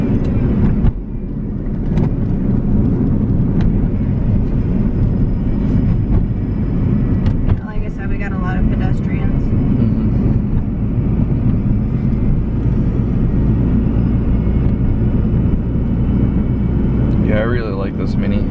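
Steady engine drone and road rumble inside a moving Mini while driving in second gear, continuous and close, with a person talking over it.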